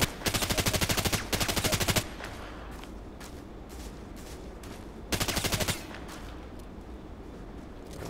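Rapid automatic gunfire from an RPKT light machine gun in the shooter game Contract Wars: a sustained burst of about two seconds, a shorter burst near the middle, and a faint ambient background with no talking in between.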